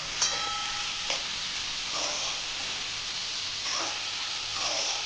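Onions sauté in a pan with a steady bright hiss and sizzle, with a few soft stirring scrapes over a few seconds, no voices.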